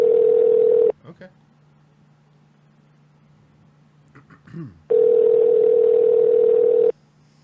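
A telephone call rings through to voicemail, with two long steady ring tones, one at the start and one near the end, separated by a quiet gap that holds a few faint clicks and a brief murmur.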